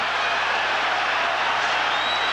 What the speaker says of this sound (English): Crowd on its feet at the Garden.